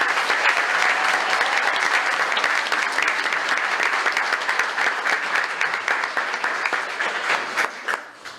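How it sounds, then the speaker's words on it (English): Loud, sustained applause from an audience at a city commission meeting, dense steady clapping that holds for several seconds before tapering off at the end. "so give them a round of applause"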